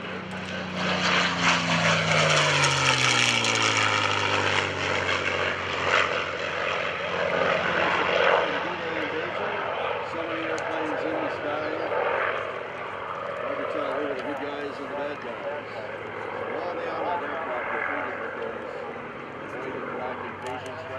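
A North American P-51D Mustang propeller fighter roars past at a World War II weekend airshow, its engine loud and sustained with a sweeping pitch shift as it passes, while a voice talks over it.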